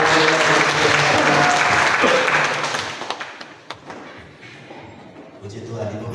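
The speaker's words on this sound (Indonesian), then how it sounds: "Kita berikan tepuk tangan selagi." A church congregation breaks into loud sustained applause that fades out over a few seconds, giving way to scattered thumps and quiet room noise.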